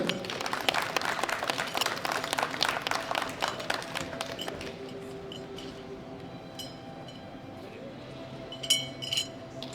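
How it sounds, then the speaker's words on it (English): Audience applause for junior men's 93 kg deadlift medalists at a world classic powerlifting championship, dense clapping that thins out midway, leaving faint scattered claps and clinks in a large hall. "Give us a round of applause to the best three athletes in the deadlift of the juniors up to 93 kilograms."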